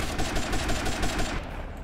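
Rapid bursts of gunfire in GTA Vice City aimed at the player, a dense crackling volley of shots at fairly close range, then trailing off near the end with no talking.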